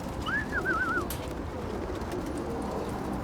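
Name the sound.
pigeons cooing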